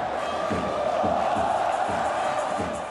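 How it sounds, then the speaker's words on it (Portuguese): A large football crowd chants "olé" in unison, loud and rhythmic, with repeated swelling cheers filling the stadium. "a torcida já cantava até olé"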